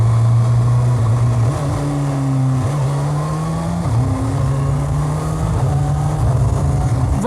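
Kawasaki Ninja ZX6R 600cc sport bike revving hard and close, engine pitch climbing then dropping briefly as the quick shifter snaps through several clean upshifts in a steady rising pattern, no voices.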